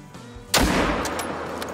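One loud, sharp rifle shot is fired at a deer in the hunting game Call of the Wild, followed by a rolling echo that decays over about a second.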